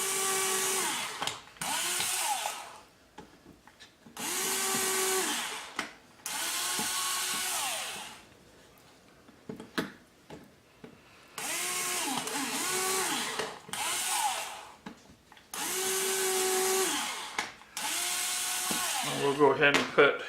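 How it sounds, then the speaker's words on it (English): Small power drill boring pilot holes in wood with a 1/16 inch bit for a mini quad frame, several whining bursts of a few seconds each separated by pauses, close and fairly loud. "We're gonna drill some pilot holes in this wood."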